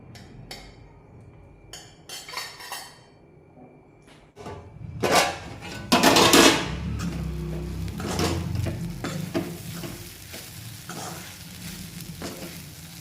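Soaked sabudana tapioca pearls with green chilies sizzling in a pan, steady frying hiss with scraping spoon stirs and occasional clinks against the metal.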